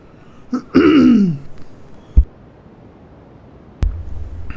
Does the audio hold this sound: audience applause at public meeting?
no